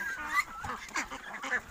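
A flock of month-old meat ducks on a Vietnamese farm quacks and honks in overlapping bursts, close and fairly loud, with no one talking.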